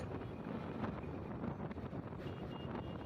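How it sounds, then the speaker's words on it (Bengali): Strong, steady wind on the Padma Bridge roaring and buffeting continuously while riding a motorcycle, a broad rushing noise with no speech. "পদ্মা সেতু ওঠার পরে বাতাসের গতিটা এতই বেশি যে বাইক চালাতে কষ্ট হয়ে যাচ্ছে"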